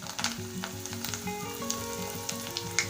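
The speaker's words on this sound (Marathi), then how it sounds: "मी तेल गरम करायला ठेवलं होतं आता त्यामध्ये आपण ह्या वड्या हळूच सोडायच्या आहेत" Rolled alu vadi made from colocasia leaves are eased into hot oil and fry over a low flame, giving a steady close crackle and sizzle with no talking.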